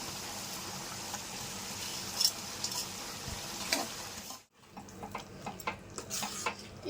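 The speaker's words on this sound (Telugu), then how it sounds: "గ్రేవీ ఇలా మరుగుతున్నప్పుడు ఈ లివర్ ముక్కలు వేసేసుకుందాం" Fried liver pieces go into bubbling gravy in a pan, producing a loud continuous sizzle and simmer with stirring scrapes, then a short gap before quieter bubbling and clinks resume.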